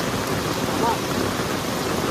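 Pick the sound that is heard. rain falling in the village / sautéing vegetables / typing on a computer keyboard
rain falling in the village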